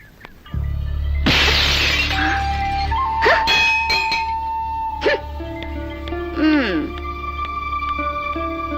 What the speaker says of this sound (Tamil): கண்ணாடி எப்படி உடைச்சன்னு கேட்டா அதான் உடைச்சு காமிச்சிட்டு போறா